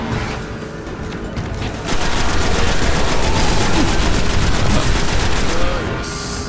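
Rapid gunfire rattles in the video game Destiny, a dense, loud, continuous barrage of shots with mechanical clatter, close and unbroken throughout.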